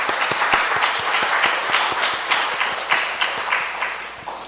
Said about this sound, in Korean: 우리 한번 격려하는 의미에서 우리 수고하셨다고 박수 한번 하겠습니다